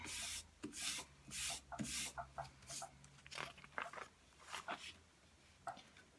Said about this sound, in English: I'm gonna rub it again.